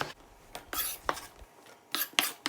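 A knife taps and scrapes on a cutting board while chopping an onion, in a few quick, irregular strokes, close and fairly crisp with no talking.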